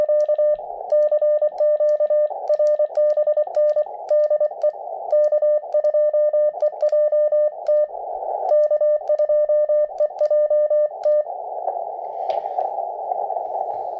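Morse code in CW is keyed out on a QRP amateur radio transceiver as a steady, clean tone in rapid dots and dashes, followed by a short stretch of rushing receiver noise near the end, with no speech.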